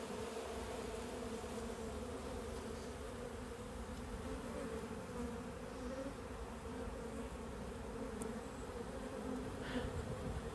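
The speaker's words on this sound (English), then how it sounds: "So at this point, there are more and more bees flying in." A honeybee swarm buzzes continuously as more bees fly in to a new nest site, a dense, steady drone of many wings filling the whole stretch at moderate loudness.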